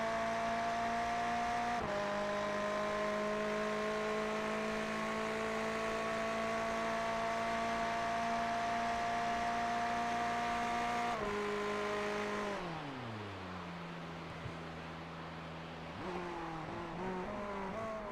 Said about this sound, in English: Guy Valero feeling the need to dip the clutch, let the engine die down, save that fuel